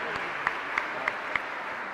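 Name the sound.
applause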